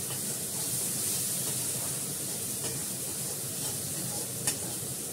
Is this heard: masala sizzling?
yes